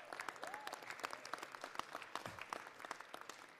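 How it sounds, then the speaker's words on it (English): Audience applause at a recognition event for Big Brother, Big Sister, a sparse crowd clapping with distinct individual claps, moderately near and steady, with faint background murmur. "Let's give them a big round of applause."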